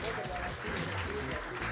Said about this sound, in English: Please, big, big, big applause for these two people